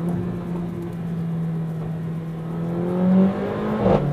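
A Mercedes A45 AMG with sport exhaust drones steadily at a low pitch, then rises in a brief revving surge near the end as it accelerates, loud and close.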